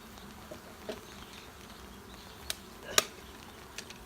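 Honeybees settling into a newly installed hive in northern Illinois in spring give a faint, low outdoor hum with light ticks and one sharper tap near the end, and no one speaks.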